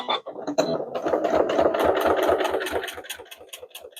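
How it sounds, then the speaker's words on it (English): A sewing machine stitching in the ditch along a seam of a blue quilted pot holder, giving a close, steady mechanical whir with fast regular needle ticks that thin out toward the end. "Now I am going to stitch in the ditch right down that seam"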